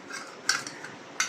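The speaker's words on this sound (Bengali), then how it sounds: "এই দইটা আমি ভালো করে ফেটিয়ে রাখছি" Yogurt (curd) being whisked in a bowl for a Bengali Doi Hilsha Vapa, heard as soft clinking of utensil on bowl with a few sharper taps, close and fairly quiet, no talking.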